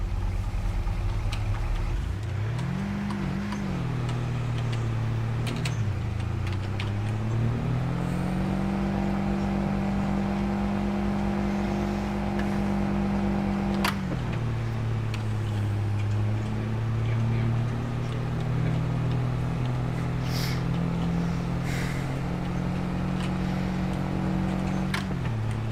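A truck engine in a farming video game hums steadily, its pitch rising and falling as the vehicle accelerates and eases off, low and continuous throughout, with someone talking now and then.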